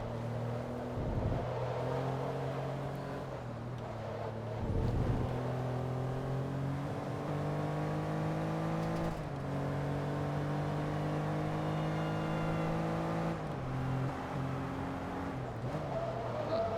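A Porsche 911 GT2 engine revs in a racing game, a loud steady drone climbing in pitch through repeated gear shifts, with brief dips between pulls and a continuous high-revving whine.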